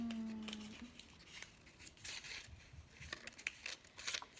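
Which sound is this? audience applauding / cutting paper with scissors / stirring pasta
cutting paper with scissors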